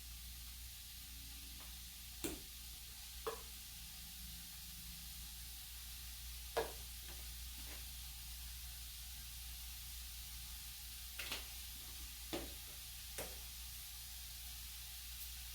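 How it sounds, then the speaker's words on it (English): Grapeseed oil is spritzed over shrimp in a pan for shrimp fried rice: a quiet, steady sizzle broken by several short, sharp spray bursts. "I'm just going to spray a little bit of the grapeseed oil"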